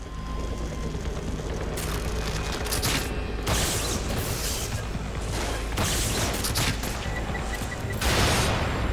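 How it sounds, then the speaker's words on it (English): Dense gunfire bursts and heavy impacts from The Evil Within video game, loud and sustained in clustered volleys with no talking. "They're shooting."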